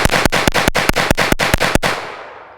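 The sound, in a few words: Retay RXP22 shotgun firing without a suppressor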